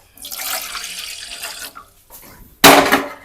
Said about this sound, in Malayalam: നമുക്ക് ഒരു ഗ്ലാസ് വെള്ളം ഒഴിച്ച്